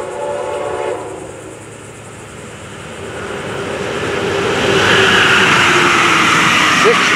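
A pink train rumbles past with rising broadband roar, a steady rolling noise that swells louder toward the end, with faint voices in the background.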